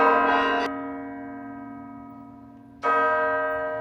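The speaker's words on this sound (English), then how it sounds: "Somehow I made it right in time for the bells." A large church bell in Brussels, Belgium tolls twice, each deep strike ringing out and slowly decaying into a long humming tail.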